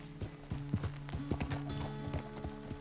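Horse hooves clip-clopping at a walk in the video game Red Dead Redemption 2, a steady, fairly quiet rhythm of hoof knocks with faint tack rattle and a soft hum beneath.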